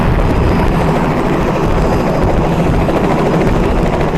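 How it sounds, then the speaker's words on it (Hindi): A helicopter roars steadily overhead, its loud, dense rotor noise filling the whole stretch without pause. "और ये आप देख रहे हैं हेलीकॉप्टर उड़ रहा है"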